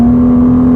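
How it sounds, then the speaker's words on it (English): Older non-DFI Porsche engine with Tiptronic gearbox held at a steady rev, a loud, close, even drone with a strong sustained tone and no talk. "You rev the car, that engine sound itself."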